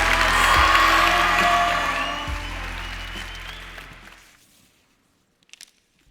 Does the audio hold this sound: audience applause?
yes